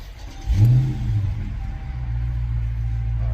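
A car engine fires up close by with a quick surge and rev, then settles into a steady, low rumbling idle that continues to the end.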